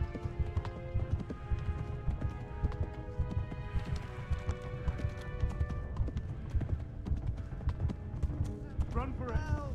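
A horse gallops in the video game Kingdom Come: Deliverance, hooves pounding in a fast, steady rhythm close by, with a person talking over the hoofbeats.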